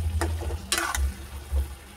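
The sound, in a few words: Kashmiri red chili powder added to sizzling pan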